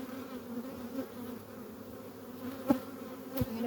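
Honeybees buzz steadily around an open hive during a summer dearth, a continuous low drone close by with a couple of sharp knocks or bumps near the end.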